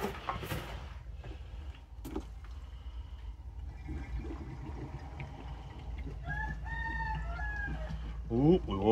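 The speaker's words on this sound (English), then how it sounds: "Woke up the old rooster over there." A rooster crows from somewhere off in the distance near the end, a rising, drawn-out call over steady outdoor background noise while an old Toro snowblower that sat unused for years is being refueled.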